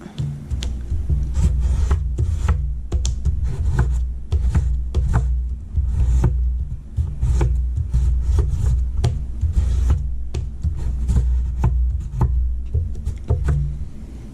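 Crayon or pencil rubbed back and forth over paper laid on a textured surface to make a rubbing, a steady run of scratchy strokes with brief pauses between them, close and fairly loud.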